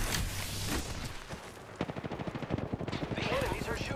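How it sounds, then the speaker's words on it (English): Rapid video-game gunfire from enemies, with bursts of automatic shots rattling in quick succession from midway on, loud and dense over busy game noise and effects. "The enemies are shooting at me."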